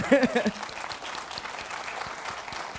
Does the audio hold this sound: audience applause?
yes